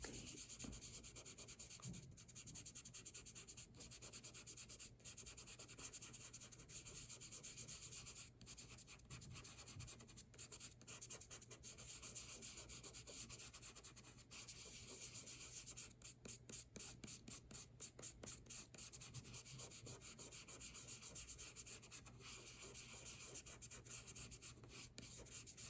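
Colored pigment is scraped across paper with a dry, scratchy rubbing that comes in steady strokes, sometimes quicker, heard close and faint with no voices.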